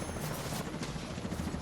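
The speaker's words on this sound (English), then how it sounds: "Next helicopter's coming in now." Helicopter in The Division 2 approaching at night, a steady low rotor throb with broad whooshing wash filling the short stretch, fairly loud and with no talk over it.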